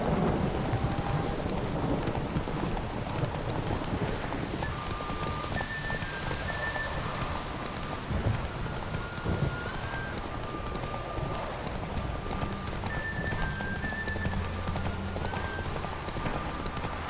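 A horse gallops through steady rain in The Witcher 3, its hooves a constant rapid clip-clop under a wash of rainfall, with faint tonal music cues rising in the background.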